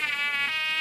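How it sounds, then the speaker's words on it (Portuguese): A mosquito whines close by in a kitchen, a thin, steady high-pitched buzz that wavers slightly in pitch as it circles, heard alone for under a second. "até mosquito tá rodando aqui, vocês acreditam?"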